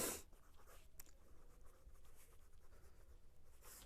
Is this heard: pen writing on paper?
yes